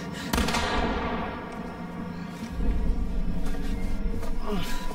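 A single warning gunshot in The Quarry video game cracks out sharply near the start, followed by a long decaying boom and low rumble under heavy game ambience and background voices.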